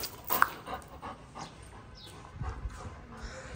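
A female dog pants quickly and whimpers up close with a few short high yips, fairly quiet over a soft outdoor background.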